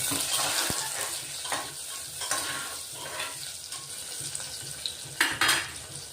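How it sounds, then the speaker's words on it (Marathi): A green chili dropped into a frying pan of khichdi tempering, with a soft steady sizzle and a few stirring scrapes and utensil clinks against the pan, no voices. "एक हिरवी मिरची घेतली, ती आपण टाकून घेतोय आता"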